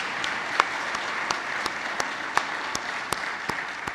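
An audience applauds award winners at a keynote event, producing a continuous wash of clapping at moderate volume with a few sharper individual claps standing out, and no talking.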